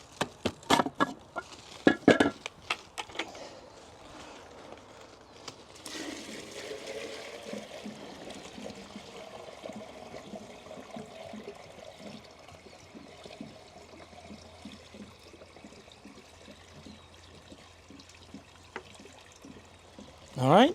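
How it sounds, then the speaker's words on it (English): A bucket of water is poured into a pool pump during a motor replacement, a quiet trickling and splashing stream that runs for many seconds, preceded by a few sharp knocks and clunks. "we need to fill up this pump with a bucket full of water and see what happens"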